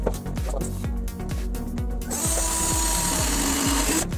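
Power drill boring a hole while building a cheap DIY sim rig, its motor whirring in rapid, evenly repeating pulses, then a steadier, brighter grind near the end, loud and close with no talk.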